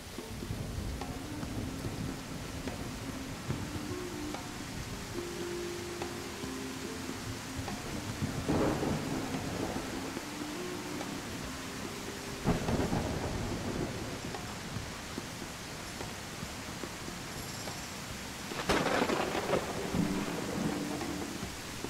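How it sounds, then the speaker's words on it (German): Rain and rolling thunder in the survival video game Tribe: Primitive Builder: a constant rain hiss with several deep thunder rumbles swelling and fading, no voices. "Der Regen ist laut"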